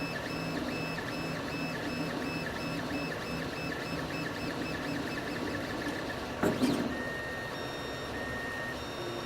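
Solidoodle 3D printer printing PLA filament at 200 degrees, a steady whirring of stepper motors with tonal whines and a brief louder burst midway, heard alone at moderate level.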